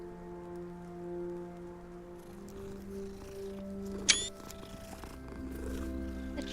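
A cat purrs softly in the video game Hogwarts Legacy, a low steady rumble under a quiet background drone with a brief sharp chime partway through.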